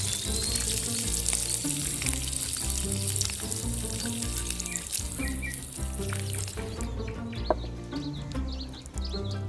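Shrimp fry in a pan with a steady close sizzle, while a low rhythmic musical pattern runs underneath throughout; no voices are heard.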